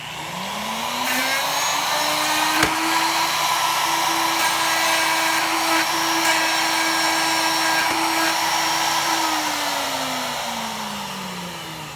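A plunge router hogs out wood on a guitar body, spinning up and holding a loud, steady high-pitched whine for about nine seconds before winding down, close and alone.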